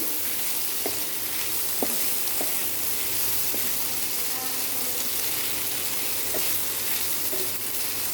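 Pasta frying in a pan with egg, a steady broadband sizzle running throughout at close range, with a few faint clicks and taps over it.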